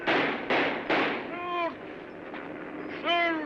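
Gunfire from a 1936 film scene: three loud, close blasts in quick succession, then a shouted voice, further shots and another shout, all with a heavy, boomy tail.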